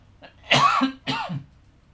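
Two harsh throaty coughs close to the microphone, one after the other, in a quiet room.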